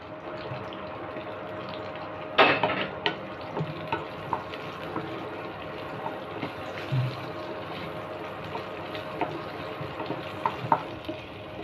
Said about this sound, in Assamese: চয়াবিনকণো অকণ ভাজি ল'ম।